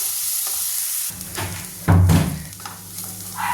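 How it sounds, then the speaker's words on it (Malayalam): Ripe plantain fries in ghee in a pan, giving a soft sizzle broken by scraping stir strokes and a heavier thump partway through, close and alone. "നെയ്യിൽ കടന്ന് നല്ലതുപോലെ ഒന്ന് ഏത്തപ്പഴം ഒന്ന് വെന്തതിന് ശേഷം"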